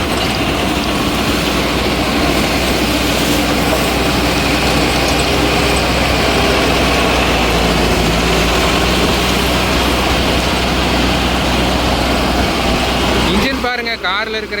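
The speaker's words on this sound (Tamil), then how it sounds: "இன்ஜின் அப்படியே அடங்காமல் ஓடுதுங்க" A Mahindra NOVO 755 CRDI tractor engine runs steadily on a farm, a constant low diesel rumble and drone that holds under someone talking over it almost the whole time.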